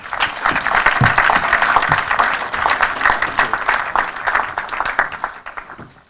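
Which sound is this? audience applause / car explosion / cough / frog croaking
audience applause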